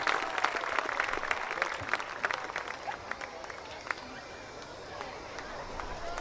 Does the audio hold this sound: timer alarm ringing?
no